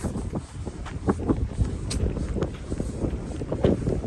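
Strong wind buffets the microphone outdoors near fishing water, a steady rumbling roar with gusty swells and occasional knocks throughout.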